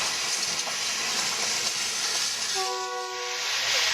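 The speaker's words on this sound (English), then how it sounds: "many of the trains needed the efforts of 2 engines to climb through the mountains" Steam locomotives, often double-headed, hauling a train up through the mountains of the Jingpeng Pass in China: steady rumbling and hissing rail noise with a brief tonal whistle near the end, fairly close and without talk.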